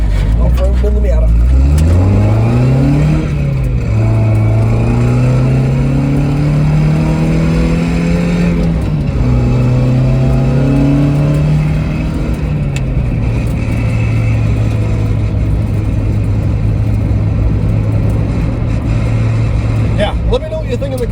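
An NB Mazda Miata driven off-road, its engine note climbing as it accelerates, then settling into a steady drone with brief dips between gear changes, heard loud from inside the cabin.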